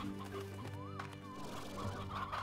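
Hens cluck in the video game Slime Rancher, a continuous busy stream of fowl calls layered over game music and ambience at a steady, moderate level.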